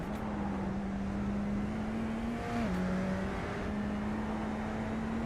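A very quiet race car in the iRacing sim, driven on the Bathurst circuit, buzzes with a thin steady engine tone that dips briefly in pitch as it shifts, then holds on, faint and alone.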